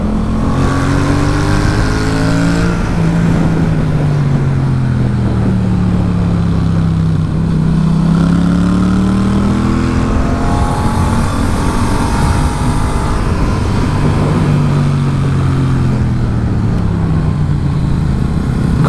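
A Yamaha MT-07 motorcycle ridden along a road, its engine loud and close throughout, rising and falling in pitch through repeated gear changes over continuous wind rush.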